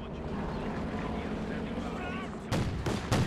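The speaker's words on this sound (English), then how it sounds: "Oh, a few more S mines going off." S-mines exploding in a WWII strategy video game, a dense rumbling battle bed with two sharp, loud blasts near the end, under continuous talk.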